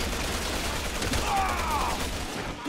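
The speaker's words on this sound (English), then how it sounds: "Stop shooting me." Gunfire in the Resident Evil 6 video game, a steady dense rattle of shots mixed with game noise through the whole stretch.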